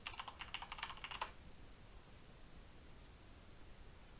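Computer keyboard typing, a rapid burst of close, crisp key clicks lasting about a second before it stops and leaves only quiet hiss.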